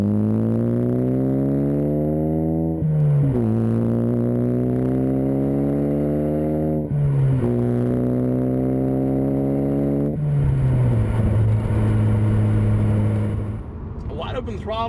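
Ford Focus ST with a COBB 3-inch stainless steel cat-back exhaust revs repeatedly, a deep, clean drone rising in pitch through three long pulls with brief dips between shifts, steady and moderately loud throughout.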